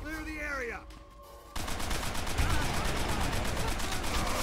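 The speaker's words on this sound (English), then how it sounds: "Open fire! Miller, man that MG" Dense battlefield gunfire in Call of Duty: World at War, a rapid crackle of rifle and machine-gun shots that bursts in loudly after a brief shouted line of voiced dialogue and then continues steadily.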